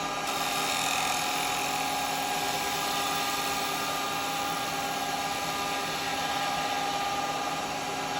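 Steady high whine of a wood lathe as a carbide chisel makes a finishing cut on a lidded box, continuous and fairly loud with no talking.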